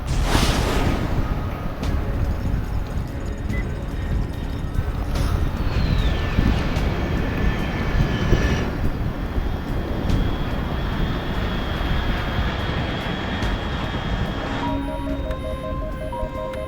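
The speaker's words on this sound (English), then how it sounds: "Unidentified aircraft detected." A fast aircraft flies high overhead in Metal Gear Solid Delta: Snake Eater, a loud continuous engine roar and rushing wind holding steady throughout, with faint tonal electronic beeps layered in.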